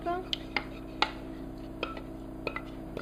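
Warm cream spooned into a small dish in a kitchen, with a few light clinks and taps of a utensil against the dish, fairly faint over a low background hum.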